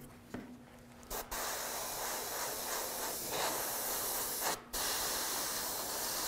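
Black spray paint hisses steadily from an aerosol can onto a laser blaster prop, close and continuous, with two brief pauses as the nozzle is released and pressed again.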